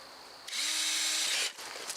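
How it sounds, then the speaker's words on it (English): A power drill runs during rear brake work on a Subaru WRX, whirring in one steady burst of about a second with a slight pitch drop, followed by brief clicks and handling noises up close. "Think that drill's dull?"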